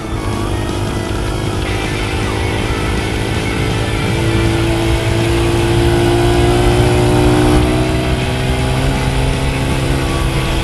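A Honda CRF 80F 80cc dirt bike engine runs loud and steady close by, revving with rising and falling pitch throughout, no talking.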